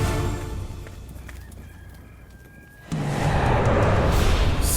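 A rooster crows loudly and close after a few quiet seconds, its call filling the last part of the clip with no talk over it.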